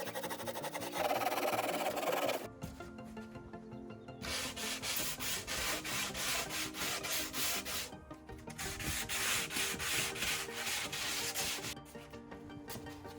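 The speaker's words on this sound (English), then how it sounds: "The foam is easily cut with a handsaw and sand smooth with little effort." Foam board for a pop-up hard-wall slide-in camper is sanded smooth. Close, steady rubbing strokes form long rasping passes, each broken by a short pause.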